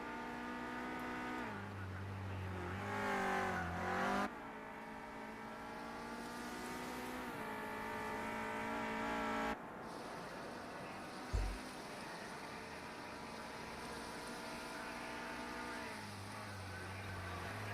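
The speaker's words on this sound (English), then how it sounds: "And this is Jason Cole now in the number 16 car" Clio Cup race car lapping Knockhill in the Project Cars 2 racing game, a steady engine drone with shifting harmonic tones and gear changes, continuous and fairly loud, with a brief thump midway.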